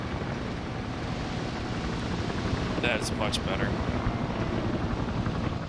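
A military helicopter in the ARMA video game roars steadily overhead, a loud, constant rotor and engine wash filling the whole clip while someone speaks briefly over it.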